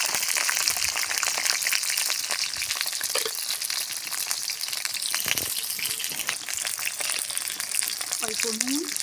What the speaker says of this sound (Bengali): এবার আমি পটলগুলো সুন্দর করে লাল লাল করে ভেজে নেব।